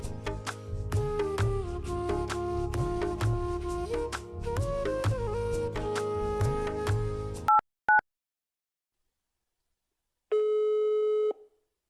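Telephone tones play as a call is placed: a rapid run of dialing beeps, two short isolated tones, then silence and a steady ringback or busy tone. The sounds are clear and close, with no voices.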